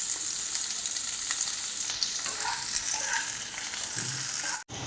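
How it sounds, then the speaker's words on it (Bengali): Onion and capsicum fry in a pan, giving a dense, continuous close-up sizzle with occasional stirring scrapes for a few seconds. "পেঁয়াজটা একটু হালকা লাল লাল হয়ে গেলে ক্যাপসিকামটাকে দিয়ে দিচ্ছি।"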